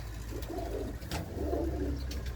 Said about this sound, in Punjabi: ਸ਼ੌਂਕ ਦੇਖੋ ਇਹ ਹੈ ਬਾਈ ਦੇ ਕਬੂਤਰ